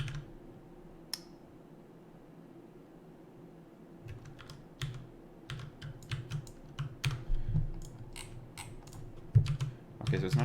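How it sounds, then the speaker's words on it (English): Computer keyboard typing right beside the microphone during game-engine level editor programming, a loud close burst of irregular clicks and clacks after a quiet start, with soft low hum underneath. "the keyboard's just gonna be loud. My mic is like right next to my keyboard."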